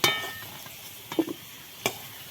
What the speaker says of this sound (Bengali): সামান্য লবণ আলুটা লাল লাল করে ভেজে নেব